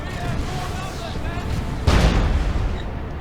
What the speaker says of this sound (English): it makes its presence known there with a main cannon shot on those tactical Marines